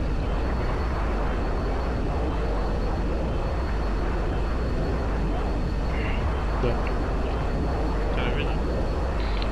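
A steady, loud jet roar from a fighter aircraft in Battlefield 2 runs continuously, with a voice talking faintly underneath and a few brief higher tones late on.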